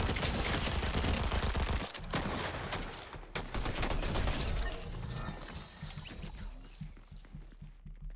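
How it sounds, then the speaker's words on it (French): Dense, rapid popping and crackling from a firework pistol in the video game Fortnite, with a game soundtrack underneath. The volley runs close and loud, then thins toward the end. "Pistolet feu d'artifice."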